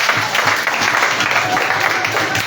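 Church congregation applauding the Lord during a French-language worship service, a loud, close, continuous patter of many hands clapping that stays dense and even from start to finish.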